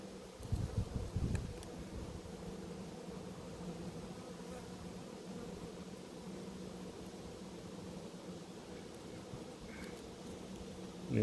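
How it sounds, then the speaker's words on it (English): A wasp at an apiary beehive buzzes in a low, steady drone that goes on for several seconds, faint and close, with a brief louder bump near the start. "Nearly got that wasp."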